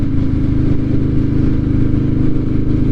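A Harley-Davidson Softail motorcycle runs steadily on the highway, its low engine rumble loud and constant, with wind noise and no speech.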